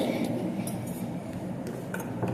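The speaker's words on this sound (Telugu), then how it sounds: "సో ఇట్లా స్పూన్ తో తీసుకోండి ఫాస్ట్" A spoon scrapes and clinks against a bowl while scooping cream from biscuits for a chocolate milkshake, with light, quick metallic taps and a steady low room hum beneath.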